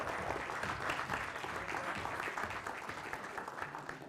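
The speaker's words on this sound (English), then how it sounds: "If I'm correct, then you want to applaud yourselves." Sustained applause from a conference audience of computing, AI and data science attendees, a dense steady crackle of many hands clapping together throughout, fairly close and even in loudness with no voices standing out.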